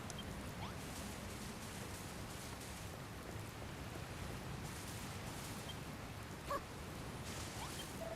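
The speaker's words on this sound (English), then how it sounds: "There'll be like a little wind and rain to break the tedium of our voyage to sea." Storm rain at sea in Dragon Quest Builders 2 hisses as a steady, soft wash of falling drops with faint surf beneath, continuous and unbroken with no voices.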